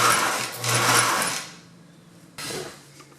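A sewing machine stitches vehicle upholstery for a custom Suburban, whirring loudly in a fast run that slows and stops, then starts again with a short second burst of stitching.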